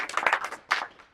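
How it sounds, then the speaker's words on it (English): Audience clapping at a startup conversation event, a brief patter of hands from a small crowd in two short bursts, fairly close and moderate in volume. "I want to give them a special round of applause"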